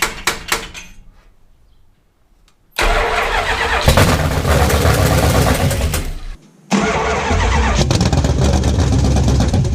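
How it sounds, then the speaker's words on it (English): A junkyard 1969 Dodge Charger dirt track car's 440 engine cranks and sputters on its first start attempt. There are a few clicks, a pause, then a loud rough burst of cranking and coughing, a brief cutout, and another ragged surge. "It was just a sputter, but I liked it."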